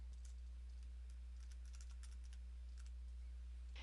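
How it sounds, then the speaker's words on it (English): Quick bursts of keystrokes on a computer keyboard, entering login details for a SharePoint 2010 site, click in an uneven rhythm over a steady low electrical hum, close and fairly faint, with no talking. "You type that information in and then click OK."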